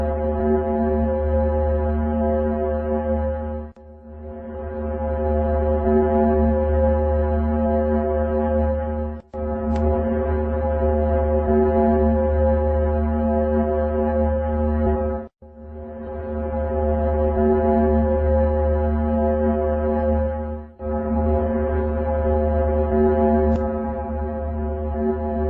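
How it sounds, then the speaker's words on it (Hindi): A deep, steady droning hum presented as the sound of the planet Venus, coming in long sustained swells of about five to six seconds, each broken by a brief dip. Loud and alone. "साइंटिस्टों द्वारा जब वीनस के साउंड को रिकॉर्ड किया गया तो वो कुछ ऐसा था।"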